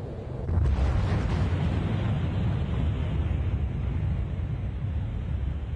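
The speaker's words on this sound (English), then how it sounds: "stars don't last forever. Just occasionally, they explode." Documentary sound effect of an exploding star: a sudden deep rumbling boom swells in and then rolls on as a loud, dense roar to the end.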